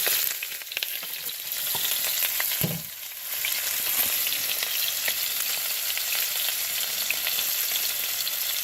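Food sizzles and spits in a pan on a camp stove out on the moors, a steady crackling hiss with a brief clatter partway through, close by and without talk.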